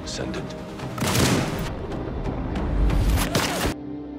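Gunfire in an action film, bursts of loud shots and booms mixed with whooshes and heavy film sound, ending abruptly, with a voice talking over part of it.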